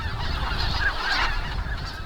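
Wild mallards and white-fronted geese honk and call steadily across winter rice fields, a dense overlapping flock chorus heard alone at moderate distance.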